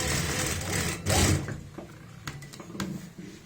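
A sewing machine runs in a short burst while stitching the boat neckline of a kurti, a close mechanical whir that swells briefly then gives way to quieter handling clicks.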